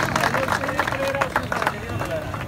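A crowd claps at a village kabaddi match during a festival, with scattered, uneven clapping mixed into loud chatter and a background voice, all fairly close and busy.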